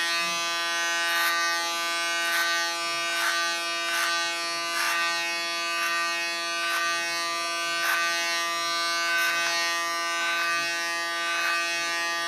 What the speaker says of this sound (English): This I will correct afterwards with my small clipper.